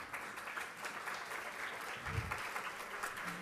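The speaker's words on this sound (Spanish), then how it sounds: "Nair, un aplauso para Nair." Applause for Nair at a children's music program Christmas concert, heard as a faint, distant, steady patter of crowd clapping with a soft low thump partway through.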